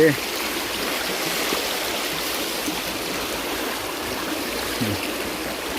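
A forest stream flows as a steady broadband wash of rushing, gurgling water. It stays close and continuous throughout, with a voice briefly heard over it.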